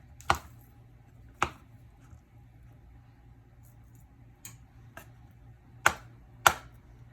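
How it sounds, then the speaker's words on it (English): A knife chops a boiled potato with its skin still on for samosa filling. About five sharp, isolated cuts on a board land at irregular intervals, close and crisp against a quiet kitchen background. "I'm going to chop like that."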